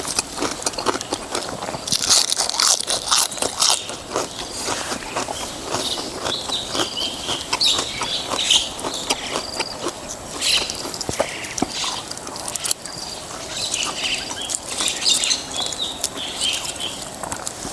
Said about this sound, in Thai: มีแต่เสียงนกเสียงกา